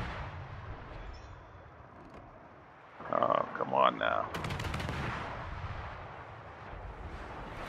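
Warship guns in World of Warships fire a volley, a cluster of sharp booming blasts in the middle of the clip over a steady engine-like game rumble, with someone talking before and after.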